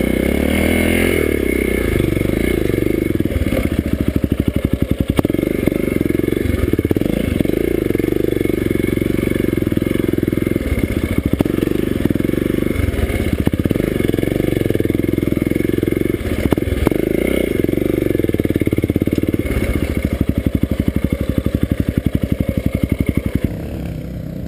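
A motorcycle engine revving loudly and continuously at a race track, with clattering mechanical noise and a voice speaking briefly over the steady engine roar.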